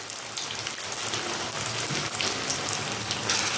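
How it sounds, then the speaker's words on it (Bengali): Bean koftas sizzle steadily in hot oil, a dense, even crackle like light rain that holds close and loud from start to finish with no voices. "কোপ্তার আকারে ভেজে নিতে হবে।"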